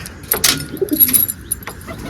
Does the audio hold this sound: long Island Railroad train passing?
no